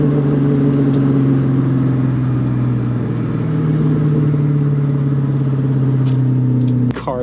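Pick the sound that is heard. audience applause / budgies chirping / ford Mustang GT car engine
ford Mustang GT car engine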